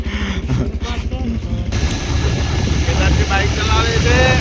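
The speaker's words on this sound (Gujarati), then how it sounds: "બાઇક ચલાવે છે અમે ચારે જણા ઘરે ઉપડ્યા છીએ" A motorbike engine hums steadily and close by as four riders set off home from a farm field, running continuously throughout.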